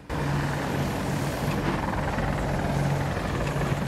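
Helicopter rotor and engine drone from a chopper in a combat video game, a steady loud whirring hum that holds throughout without pause.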